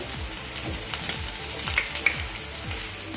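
Garlic chutney with tamarind and cumin sautéing in a pan, a close, even hiss of frying with faint crackles and a few soft scrapes, no voices.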